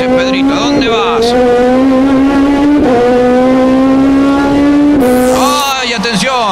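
Turismo Nacional Clase 3 race cars, including a Honda, scream past at close range in Posadas, with engines braking and then revving hard through several gear changes while a commentator talks excitedly over them.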